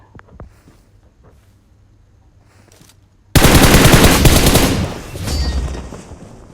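PUBG Mobile gunfire erupts as a sudden loud burst of rapid automatic shots after a few quiet seconds with faint taps. The shots run for about a second and a half, then trail off into a lower rumbling tail.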